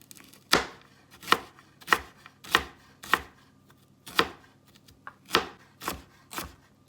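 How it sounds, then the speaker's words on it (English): A knife finely chops carrot strips on a cutting board, giving about ten crisp, evenly spaced thuds at a steady rhythm, close and clear with no talking. "So I cut my carrots into small strips and I'm gonna go in and finely chop these guys"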